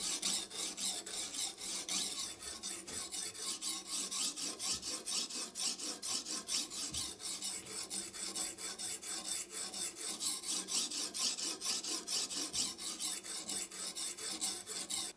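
A knife is worked on a coarse grit stone with liquid, making steady, rhythmic rasping strokes close up, back and forth at an even pace without pause.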